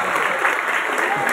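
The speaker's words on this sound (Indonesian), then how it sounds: "kita berikan aplaus" A room of school students claps in steady, dense applause, loud and close, sustained without a break.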